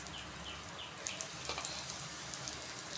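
Two pieces of cinnamon, cloves and one star anise sizzle and crackle quietly in hot oil, with a soft steady frying hiss and scattered small pops.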